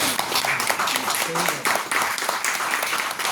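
An audience claps in a short burst of applause at a Kangen water demonstration, the clapping dense and fairly close, with a voice speaking over it.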